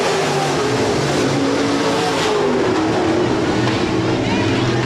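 USRA B-Modified race cars roar through a heat race at Rapid Speedway, a loud, unbroken engine drone that stays steady and close.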